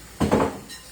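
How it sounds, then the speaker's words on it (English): A spoon scrapes and knocks against a pot of egusi being stirred, one short close clatter followed by a fainter scrape. "Now I can stir all this egusi now."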